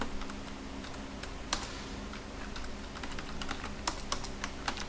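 Steady typing on a computer keyboard while entering address details into Tally ERP 9 accounting software, a run of light key clicks with a few sharper taps, close and alone with no voices.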